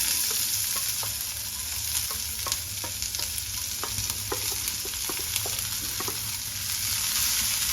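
Chopped onion, green chilli and garlic sautéing in hot oil with mustard seeds and dried red chilli, a steady loud sizzle with frequent crackles and spatters and occasional spoon stirring.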